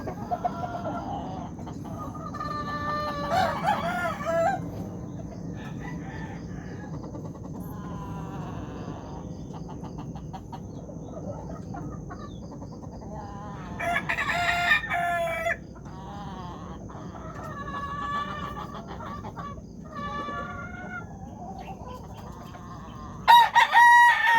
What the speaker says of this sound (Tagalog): Ito pa, dami dito mga stag pa nga lang po.